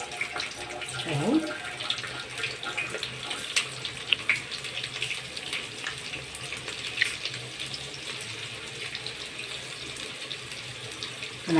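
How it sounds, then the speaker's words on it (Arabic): Flour-coated eggplant slices fry in hot oil with a continuous close sizzling hiss, dotted with small crackles and pops throughout. "انا خلاص بقى اقلي البدنجان وهرجع لكم تاني"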